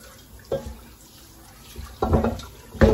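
Tap water splashes in a sink as beef for bulalo is rinsed, coming in short irregular gushes and spatters that grow louder toward the end.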